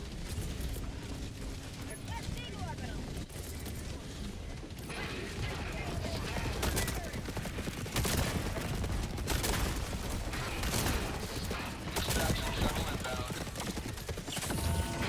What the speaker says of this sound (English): my Gatling barrage just absolutely destroyed my shield immediately